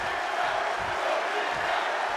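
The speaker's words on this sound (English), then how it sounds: "the crowd is cheering for both these guys" Crowd at an SCW wrestling show cheers in a steady, loud wash of voices, continuous and undifferentiated for the short stretch.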